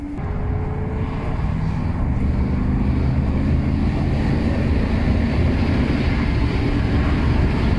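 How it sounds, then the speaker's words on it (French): Steady, loud wind rushing and buffeting, a continuous roar of air pushing through a not-fully-closed window of a Bentley Turbo R at speed. "On a un peu de bruit de vent quand même. C'est parce que la fenêtre elle n'est pas tout à fait fermée."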